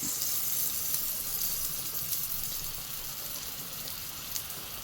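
Butter sizzling in a pan beside bread and egg for a quick snack, a steady close crackling hiss holding at an even level throughout with no talk.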